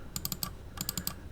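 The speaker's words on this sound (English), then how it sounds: "You could hear me clicking. It's kind of annoying." Rapid clicks from a computer keyboard and mouse during CAD modeling work come in two quick bursts of four or five sharp taps each, close and fairly loud, with no talking.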